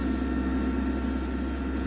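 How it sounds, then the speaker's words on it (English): Kaleido Colorworks spray paint hisses out of the can in a steady, loud, unbroken burst as a test spray, with no talking over it. "Always give it a bit of a test spray."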